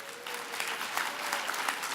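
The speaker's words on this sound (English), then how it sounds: "one final round of applause for all of our winners today" An indoor audience at an awards luncheon claps for the winners, dense continuous applause from a roomful of people, close and fairly loud throughout.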